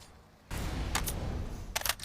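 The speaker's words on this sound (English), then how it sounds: "Nice spray from Voltic with the M4" M4 rifle spray fire in CS:GO during a tournament grand final: two short bursts of rapid shots over steady background game noise.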